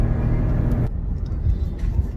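A Ford F-150 EcoBoost pickup truck drives with a steady low engine drone and road rumble, recorded from inside, with the pitch shifting slightly as it moves along.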